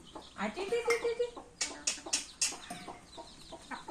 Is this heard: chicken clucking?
yes